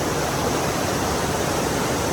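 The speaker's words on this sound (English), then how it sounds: "Pretty cool waterfall" A mountain waterfall on the route from Engineer Pass to Silverton, Colorado, gives a loud, steady, close rush of falling water with no pauses and no voices.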